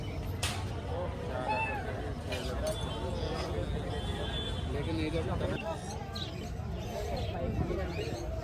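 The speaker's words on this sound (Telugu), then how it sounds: "ఆ బ్లాక్ పిల్లి చూడండి, భలే ఉంది కదా" A black cat at a busy pet market in Hyderabad's Chor Bazaar meows several times in drawn-out, rising calls, amid crowd chatter, nearby talking, occasional clinks and faint bird chirps.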